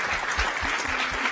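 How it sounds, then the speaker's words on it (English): An audience applauds at the close of a lecture on the Arctic, a steady, dense clapping from a room full of people, heard alone. "One more round of applause for the amazing Elizabeth Cronin"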